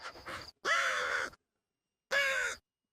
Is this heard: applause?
no